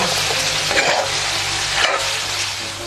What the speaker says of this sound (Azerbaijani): Soğan biraz yumuşaldıktan sonra kökü əlavə edirik. Və yenə qovururuq.